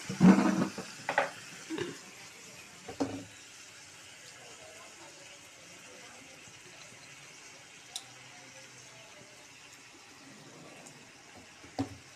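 Water splashes into a spice paste frying in a pan for a summer fish curry with papaya and potato, a few short bursts of pouring and sizzle at the start before settling into a soft, low hiss.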